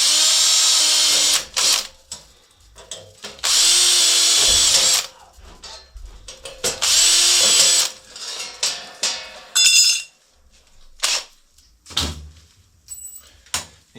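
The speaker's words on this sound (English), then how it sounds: "You take your pilot drill bit," A power drill fitted with a pilot drill bit boring a hole in a breaker mounting spot on a hybrid inverter, in several loud, sustained bursts separated by pauses, with clinks and handling noises between runs.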